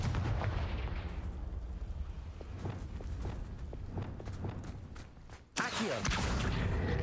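A Confringo fire spell fires in Hogwarts Legacy, a rumbling run of blasts and crackles followed by a sharp, loud burst near the end.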